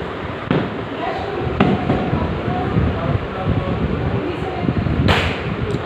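Sharp firecracker bangs go off at irregular intervals, some nearby and loud, with a noisy outdoor background and occasional voices.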